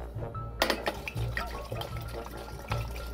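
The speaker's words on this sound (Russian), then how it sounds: "Наливаем водочку." Vodka pours and splashes into a drink dispenser up close, with a few light clinks of glass, continuous and fairly quiet.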